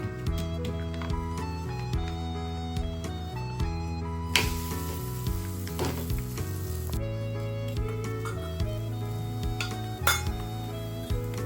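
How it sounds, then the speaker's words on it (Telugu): A jowar roti roasts on a hot clay griddle with a steady soft sizzle, while a background music track plays over it and occasional utensil clinks break in. "పెంక వేడైపోయిందండి. ఇప్పుడు వేసేసుకుందాం పెంక పైన."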